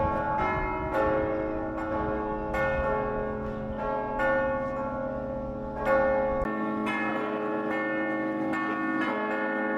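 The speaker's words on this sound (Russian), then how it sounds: "звонарь в церкви начал звонить в колокола" Church bells ring at midday in a church on Malta, several bells striking in an irregular peal with long ringing overtones, loud and fairly close, overlapping continuously with a faint street rumble beneath.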